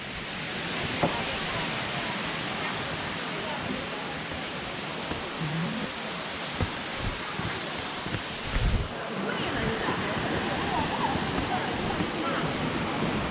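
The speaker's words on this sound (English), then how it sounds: "this is the big waterfall up at the top of the series of waterfalls" A big waterfall at the top of a series of falls near Luang Prabang, Laos roars as a constant loud broadband rush, steady and close with a brief thump partway through.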